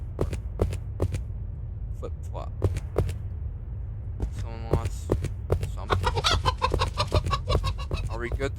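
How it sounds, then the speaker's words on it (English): Chickens cluck on a road in short, scattered bursts amid clicks and knocks, fairly close, with people talking nearby. "Why is there chickens on the road?"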